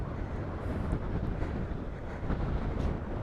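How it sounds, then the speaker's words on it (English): Strong wind roars and buffets steadily across the whole stretch by a choppy sea, with low rumbling gusts and no voices. "Choppy sea and windy weather."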